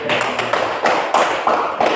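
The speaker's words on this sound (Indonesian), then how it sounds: "Tepuk tangan" Students in a classroom give a short round of applause, a few rhythmic bursts of close hand clapping in quick succession.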